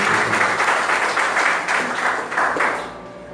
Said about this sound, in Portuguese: Uma salva de palmas para a palavra da nossa salvação.